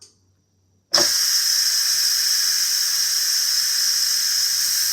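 A loud, sudden hiss of steam bursts from an Instant Pot pressure cooker's release valve after cooking pinto beans and smoked sausage, then continues as a steady, close, unbroken rush.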